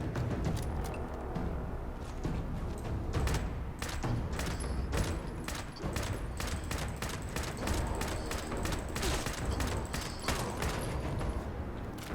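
Dense, continuous gunfire in Fallout 76 against a sheepsquatch, a steady barrage of rapid shots for the whole stretch with no talk.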